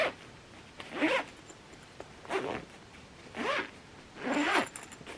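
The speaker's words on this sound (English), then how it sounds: "easy to zip around again. And to make it small again, there's this zip on the side." Four quick zip strokes on a Louis Vuitton Neverfull GM bag, each a short close rasp separated by brief pauses, in a quiet room.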